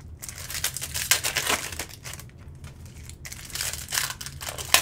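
Foil wrappers of Bowman U Chrome trading card packs are ripped open, with close, busy crinkling and tearing in quick bursts and brief pauses between them.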